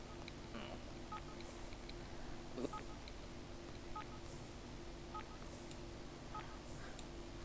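Phone tones from a Sims 4 game as a sim uses a mobile phone: short scattered beeps and dial-like blips over a faint steady background hum, quiet and spaced irregularly.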